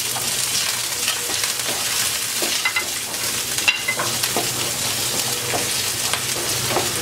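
Onion, garlic and dried chili fry in hot oil with a loud, dense sizzle that stays even throughout. A few faint scrapes of stirring come through close by, and no one speaks.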